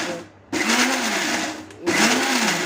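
Electric mixer grinding dry chillies and spices into powder for an onion chutney, a loud whirring grind in two bursts separated by a short pause.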